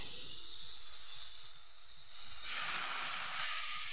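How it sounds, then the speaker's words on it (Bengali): Shredded cabbage dropped into a hot pan of fried potatoes, a steady close sizzling hiss that swells louder partway through, no talking. "এবার আমি কপি দিয়ে দেবো।"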